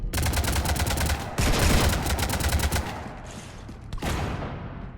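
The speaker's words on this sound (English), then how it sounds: "You want to stop shooting up my ship?" Loud sustained automatic weapon fire in the Mass Effect 3 video game at the Citadel, rapid shots breaking off briefly and resuming, then fading to a lull before a final burst.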